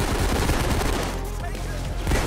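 Rapid bursts of gunfire in the heist shooter Payday 2, dense and continuous across the clip with a voice talking faintly underneath.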